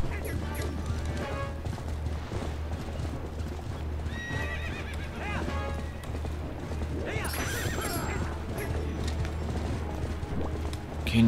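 A horse gallops in the video game The Legend of Zelda: Twilight Princess HD, with steady rapid hoofbeat clip-clops close by, occasional neighs and whinnies, and a voice speaking now and then.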